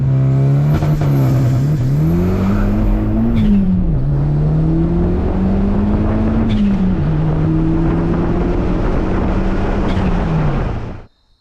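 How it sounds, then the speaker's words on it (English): A turbocharged Mitsubishi Eclipse GSX accelerates hard through the gears, its loud, close engine note climbing then dipping at each shift several times before cutting off abruptly at the end. "Ripping through gears, hearing the turbo spool."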